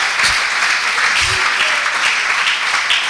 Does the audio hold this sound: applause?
yes